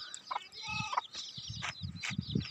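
Hens cluck close by in a village yard, with a busy mix of short repeated clucks and chirping calls overlapping at moderate loudness, no voices.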